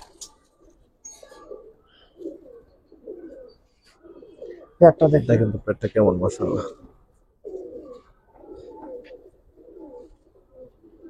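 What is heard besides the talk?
pigeon cooing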